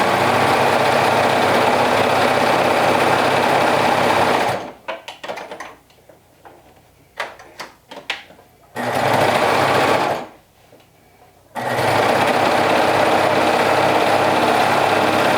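A sewing machine stitches through bulky French terry seam allowances in loud, steady runs that stop and restart, with quiet pauses between the bursts of stitching.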